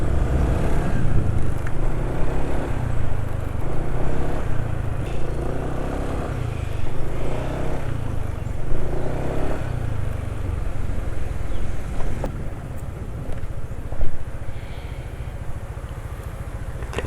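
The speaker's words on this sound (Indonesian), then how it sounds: "Suara mesin kasar, RPM mesin sudah termasuk mulai cepat turun ya." A motorcycle engine runs steadily with a rough, uneven idle, its RPM dropping quickly, its low rumble fluctuating slightly throughout, close to the listener, after 83 km on Petronas Urania oil.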